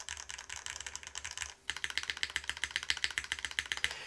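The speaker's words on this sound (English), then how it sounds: "as I keep clicking, there's a faint underlying metallic sound in some areas of the board." Mechanical keyboard keys clicking in a rapid, steady rhythm on a custom build with tuned stabilizers, a faint metallic ping beneath some keystrokes; a short pause interrupts the typing before it resumes louder.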